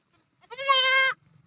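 A goat bleats once, a single drawn-out harmonic call of about 0.7 seconds, loud and close, with a faint low rumble after it.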